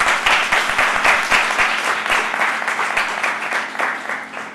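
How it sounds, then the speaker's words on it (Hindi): Church congregation breaking into loud, dense applause, a brisk sustained patter of many hands clapping close by that slowly eases off over a few seconds. "ताली बजा दो।"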